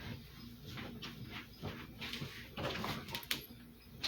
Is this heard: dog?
yes